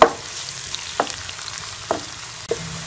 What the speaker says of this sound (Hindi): प्याज को जो है वो लाइट गोल्डन कलर आने तक फ्राई कर लेंगे।